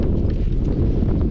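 Strong wind gusts across a beach, buffeting the microphone with a heavy low-frequency roar and rumble that stays loud and unbroken, with no voices heard.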